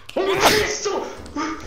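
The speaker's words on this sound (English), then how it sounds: "I was sneezing." A single sharp sneeze bursts out near the start, followed by a short vocal sound and a brief exclamation.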